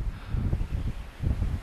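Wind gusting outdoors on the coast at Anglesey, a low buffeting rumble against the microphone in uneven surges, heard alone.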